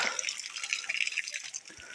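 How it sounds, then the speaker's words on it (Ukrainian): Water runs from a freshly opened tap on a centralized supply line into a bucket, a steady hissing gush with faint drips, close and continuous. "Відкриваємо кран. Вода у нас іде."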